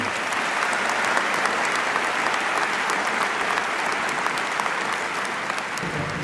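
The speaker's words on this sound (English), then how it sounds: "Let's give one more round of applause for Tiara and Daniel." A graduation audience gives a sustained round of applause for the class of 2024 speakers, dense clapping from a large crowd holding evenly throughout with faint cheering mixed in.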